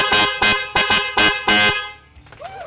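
A Honda PCX 160 motorcycle horn honks in short repeated blasts, about five quick toots in a steady rhythm, loud and close, then cuts off into quieter background noise.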